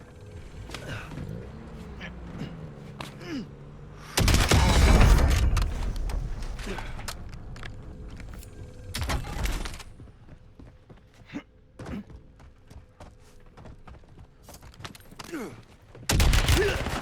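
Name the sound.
gunfire in the video game Warzone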